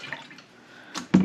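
Cactus Juice resin is poured over pieces of a dissected Dodgers MLB bat, giving a soft liquid trickle followed by a couple of brief splashy drips near the end, quiet and close.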